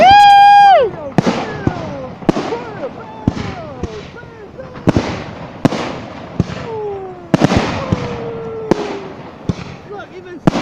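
New Year's Eve fireworks burst with sharp, loud booms roughly every second, some preceded by rising whistles, while nearby voices call out and cheer between the explosions.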